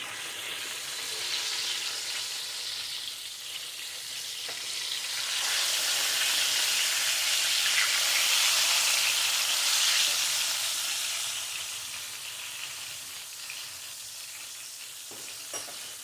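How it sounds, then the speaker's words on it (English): Whiting fish fry in a pan, a soft steady sizzle that swells louder midway and then eases back, with occasional light scrapes as the pieces are moved around. "That's what I always do when I'm frying things. I always move them around."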